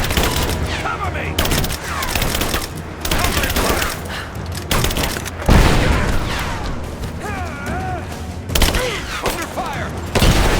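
Dense gunfire pours out in sustained automatic bursts and booming shots during a Rise of the Tomb Raider firefight, loud and continuous, with enemy soldiers shouting under the shooting.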